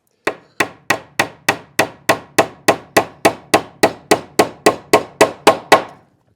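A hammer drives nails into tongue-and-groove wooden flooring with about twenty evenly spaced, sharp blows in a steady rhythm, each strike ringing briefly before the next, close and loud.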